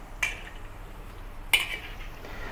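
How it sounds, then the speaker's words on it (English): Ladle pressing and rolling sweet potato balls in a pot, heard as two distinct metallic clinks against the pot over a low simmering background. "use this ladle to press them back down to the bottom and roll them around"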